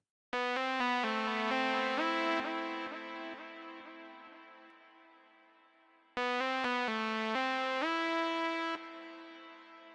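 Synth notes in FL Studio repeat in a bright, echoing trail from a delay effect, each phrase decaying gradually, then a second phrase comes in loud and clear with the same repeats.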